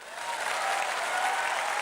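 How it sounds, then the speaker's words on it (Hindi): Audience applauding for small children after their dance performance on stage, a steady dense wash of clapping throughout, close and fairly loud with no talk. "बच्चों के लिए जोरदार तालियां बजाओ।"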